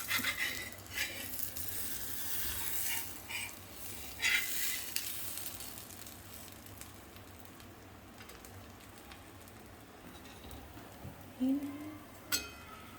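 A paratha cooks on a pan over a high flame, a steady soft sizzle with occasional scraping and clinks of the pan, and faint background noise throughout.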